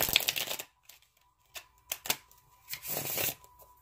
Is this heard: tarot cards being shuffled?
yes